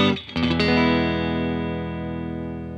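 A clean electric guitar, a Fender Stratocaster played through a Vox AC30 amp, strikes a quick strum and then lets one full chord ring and slowly fade, played alone.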